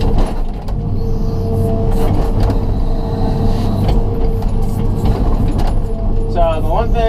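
A John Deere 200LC excavator pulls stumps during backyard grading, its diesel engine droning loud and close with steady low rumble and occasional clanks, while a person talks over it.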